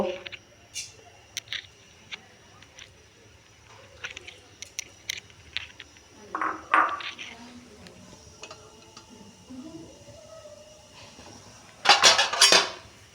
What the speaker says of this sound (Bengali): 5 ফোড়নটা একটু নেড়ে নিব।